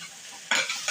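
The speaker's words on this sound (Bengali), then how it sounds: "নাড়িয়ে ভালো করে ভেজে নেব" Taro flower paste with shrimp is stirred and fried in a pan. The short scraping stir is followed by bursts of close, bright sizzling.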